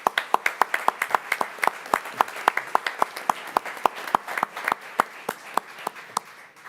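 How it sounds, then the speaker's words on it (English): A small audience at a school board of education meeting claps in a sparse, uneven patter of distinct individual hand claps, fairly close and steady throughout. "Let's give him a nice round of applause."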